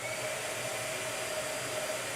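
A hair dryer blows steadily, used while doing a small gouache painting, a constant airy whoosh with a faint motor whine, fairly quiet and unbroken with no talking.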